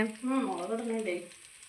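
Chillies drop into oil where dried fish is frying, bringing a soft steady sizzle with light stirring, close but quiet, under a voice talking throughout.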